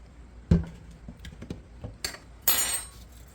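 Seasoning for grilled pork belly with rib bones, including red pepper flakes, being mixed in a bowl: a sharp clink near the start, then scattered light scraping taps and a brighter clattering burst toward the end, close and fairly quiet with no talking.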